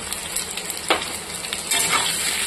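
Malabar spinach and pumpkin frying in a pan with turmeric and salt: a steady, close sizzle with a few brief stirring scrapes, and no talking.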